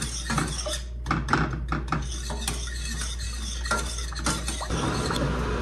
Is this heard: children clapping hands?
no